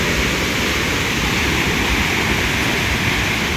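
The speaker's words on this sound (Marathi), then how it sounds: "रिव्हर्स वॉटरफॉल सारखं येत आहे" Nangartas waterfall in the Konkan rushes with heavy pressure, a loud, constant broadband roar of falling water heard close by, with no voices.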